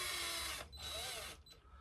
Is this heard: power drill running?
yes